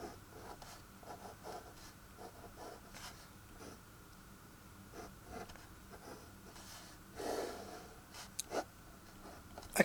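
A pen scratches across paper while sketching logic gates for a circuit diagram, producing quiet, close, intermittent strokes and short scribbles with brief pauses between them and nothing else audible.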